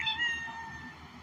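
A cat gives a single short, close meow that rings clearly over a quiet room background.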